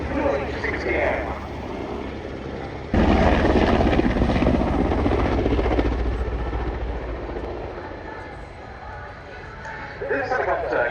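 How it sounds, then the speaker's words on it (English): A Swedish Air Force helicopter flies at the RIAT 2025 airshow, its rotors making a steady, loud whirring drone that jumps in volume about three seconds in and then slowly fades, with speech over it. "This helicopter comes from the second division of the Swedish Air Force stationed at Linköping Malmö Air Base."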